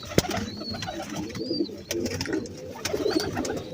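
Show pigeons coo in soft, low, repeated calls, close by, with sharp clicks and thin high bird chirps scattered over them and no talking.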